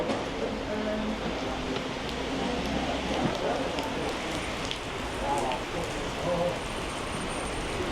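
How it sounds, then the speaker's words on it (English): Steady rain falls outdoors in Bolton as someone shelters, a continuous even patter and hiss on surfaces throughout, with faint intermittent background noises. "I think I'm just going to have to shelter here until it stops raining."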